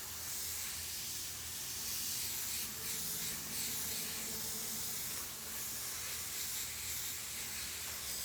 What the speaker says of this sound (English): So I am using my iWater Eclipse to airbrush this t-shirt for a local customer.